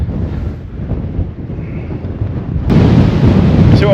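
Strong wind buffets the microphone in a steady low roar on a Snowdonia hillside, growing louder and harsher in the last second.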